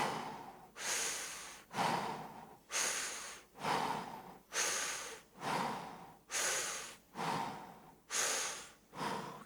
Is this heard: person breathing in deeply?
yes